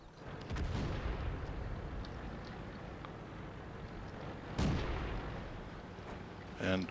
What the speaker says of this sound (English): Nice artillery shot. That was a good shot.